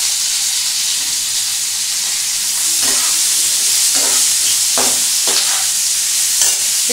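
Red, yellow and green bell peppers fry in a pan with a steady, loud sizzle, broken by a few scraping stirs of a utensil.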